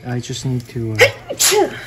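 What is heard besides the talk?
sneeze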